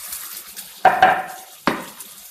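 Onion and green chillies go into hot oil for a simple curry: two sharp clatters of utensil on pan, each followed by a short sizzle burst, over a quiet background.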